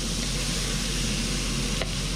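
Onions sear in a hot pan with a dense, steady sizzle and crackle, close and continuous throughout with no talk.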